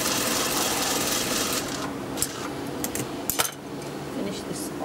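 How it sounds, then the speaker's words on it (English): A sewing machine stitches fabric with a dense continuous buzz for most of the clip, interrupted near the end by a few sharp clicks and clatters of handling. "we're just going to finish this off by actually just stitching"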